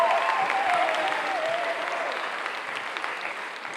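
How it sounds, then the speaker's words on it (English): Steady audience applause at a high school spring sports awards night, a dense, sustained patter of many hands from a seated crowd that holds level and fades slightly toward the end, with no talking on top. "Round of applause."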